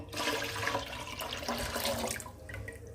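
Raw date palm sap poured into a rice cooker, a steady close liquid splashing and gurgling that runs for about three seconds without a break, then thins out toward the end.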